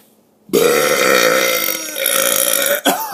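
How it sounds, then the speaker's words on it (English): A long, loud burp starts after a half-second of quiet and rumbles on steadily for over two seconds, then breaks off with a short gasp and a brief second burst at the end. "Okay, one last burp."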